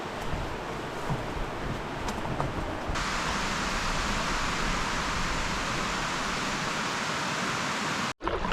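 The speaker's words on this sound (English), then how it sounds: "Beautiful waterfall running into this lake." Waterfall pouring into a remote wilderness lake gives a steady, dense broadband rush that fills the whole stretch, close and loud, with no talk over it.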